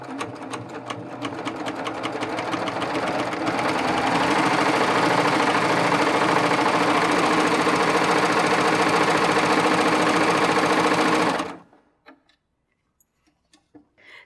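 A Baby Lock serger running a cover and chain stitch with differential feed engaged to gather fabric, a steady loud mechanical whir with fast rhythmic ticking that holds for about eleven seconds, then stops abruptly.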